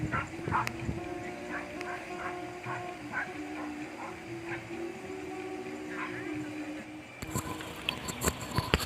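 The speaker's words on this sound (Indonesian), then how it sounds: "sehingga gonggongan anjing pun juga terdengar" Hunting dogs bark and yip from a bushy thicket near rice fields, a steady stream of rapid, mid-distance barks over outdoor background noise, followed by a louder rustling, clattering stretch at the end.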